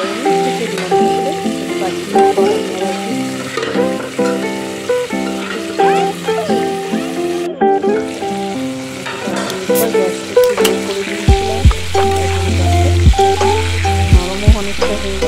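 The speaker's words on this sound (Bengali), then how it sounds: "আর ভালো করে লাল করে ভাজতে হবে।" Taro and potato pieces for a vegetarian curry fry in a pan, sizzling steadily with repeated stirring scrapes, close and loud, over background music.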